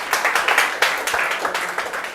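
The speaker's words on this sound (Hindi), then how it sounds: "बच्चे के लिए जोरदार तालियां बजाएंगे" Brief, lively clapping from a group applauding a student selected in the CUET-ICAR exam, a short burst of dense overlapping claps heard close and alone.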